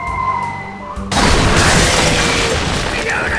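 A Hungarian easy-action cannon on a pirate ship in Tales of Monkey Island fires with a sudden loud boom and crash about a second in, followed by a sustained rumbling, crackling wash of noise.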